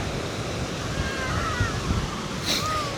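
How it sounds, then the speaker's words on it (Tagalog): Ocean waves break and wash onto the shore at Tenby in the late afternoon as the tide comes in, a continuous roar, with wind buffeting the microphone. "Laki ng wave oh."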